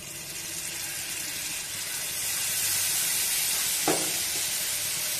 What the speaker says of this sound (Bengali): এবার আমি গ্যাসে একটা তাওয়া একটু ভালো করে গরম করে নিয়েছি, দিয়ে দেব এখানে একটু বাটার আর কিছুটা দিয়ে দেব